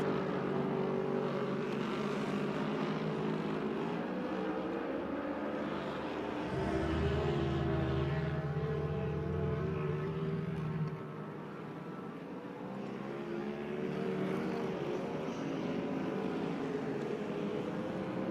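Flat track motorcycle race at Orange County Fair Speedway with Honda, Harley-Davidson and Kawasaki bikes, a continuous distant engine drone that swells and fades as the pack passes, steady with no talk.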